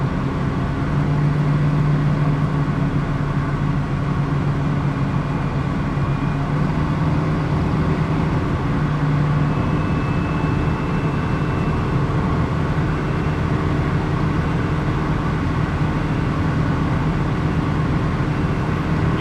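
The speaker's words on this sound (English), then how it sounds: "Car drives pretty straight." Interior of a 1968 Mercury Cougar on a test drive, its engine and road noise a steady low drone with a constant rumble throughout, no voices.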